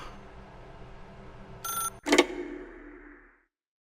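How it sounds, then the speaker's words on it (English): A telephone rings in the video game The Stanley Parable: Ultra Deluxe, a short electronic ring burst followed by a louder bell-like ring that fades out, heard alone over a low background hum. "If you can truly place your faith in another, then pick up the phone."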